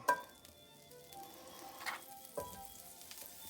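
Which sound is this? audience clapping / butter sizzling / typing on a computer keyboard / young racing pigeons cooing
butter sizzling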